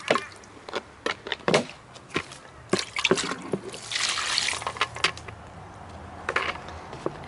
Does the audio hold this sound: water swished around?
yes